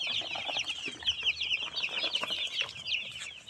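A flock of broiler chickens on their first day in a poultry shed keeps up dense, continuous high-pitched peeping and clucking close by, with no talk over it.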